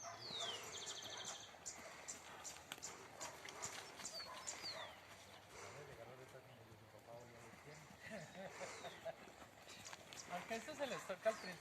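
Horse's hooves clip-clopping on open ground during a taming and training session, a loose rhythmic patter of footfalls at moderate distance, with a person speaking over it and faint birds in the background.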